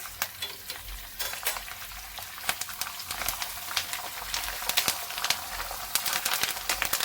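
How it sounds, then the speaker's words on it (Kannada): Curry leaves and dried red chillies spluttering in hot oil for gojju avalakki: a dense, lively crackle and sizzle with sharp pops scattered throughout, close and fairly quiet, no voices. "ಈಗ ನಾನು ಕರಿಬೇವು, ಒಣಗಿದ ಮೆಣಸಿನ್ಕಾಯಿ ಹಾಕ್ಕೊಳ್ತಾ ಇದ್ದೀನಿ."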